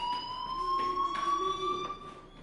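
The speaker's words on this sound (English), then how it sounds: "do you hear that fire alarm?" Fire alarm ringing in the Life is Strange video game, a steady high electronic tone with overtones sounding continuously and fairly loud, with no voices over it.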